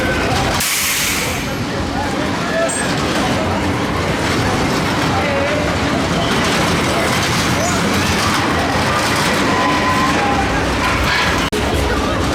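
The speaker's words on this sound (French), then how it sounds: "ces petites souris qui roulent sur le rail" Reverchon spinning coaster cars at a funfair rolling along the rail, a steady loud roar and rumble of wheels with a brief high hiss near the start, continuous throughout.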